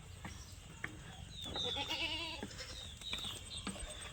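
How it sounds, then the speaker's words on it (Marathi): Goats tied up at a goat farm bleat in one clear, wavering call that rises in the middle, with fainter bleats and farmyard rustling around it. "ह्या 4-5 शेळ्या आम्ही बांधून ठेवलेल्या आहेत"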